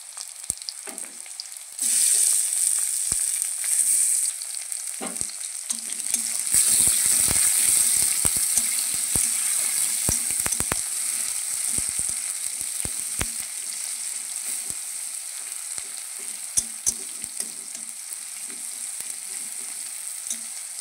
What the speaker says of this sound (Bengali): দেখো পেঁয়াজটা লাল লাল হয়ে গেছে, এইবার আমি